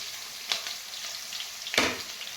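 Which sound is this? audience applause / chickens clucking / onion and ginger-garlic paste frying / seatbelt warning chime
onion and ginger-garlic paste frying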